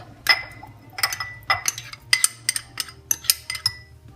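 A large spoon scooping jam, with about eight sharp clinks of metal against a glass jar in a steady rhythm over a low background hum, close and clear.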